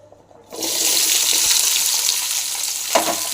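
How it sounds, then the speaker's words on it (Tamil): Small onions sizzle and crackle steadily in about 400 ml of hot sesame oil, a loud, continuous frying hiss that starts abruptly after a short quiet, with a brief stir partway through. "இந்த சின்ன வெங்காயத்தை க்ளீனாக கொஞ்சம் ப்ரை பண்ணி எடுத்துடலாம்"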